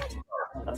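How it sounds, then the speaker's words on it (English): A dog gives a short, loud bark or growl up close, with a brief harmonic cry between rougher bursts of noise. "That's my dog."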